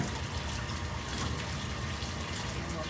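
Water pours steadily into a tub for rinsing raw wool fleece, a dense continuous splashing rush from nearby with no break.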